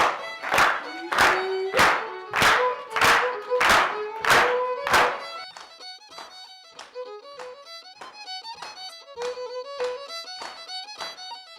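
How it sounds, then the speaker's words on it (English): An audience claps along in a steady beat to piano music during a live session, the loud unified claps fading after about five seconds while the piano melody carries on alone. "we're going to ask if it's okay that everybody claps along"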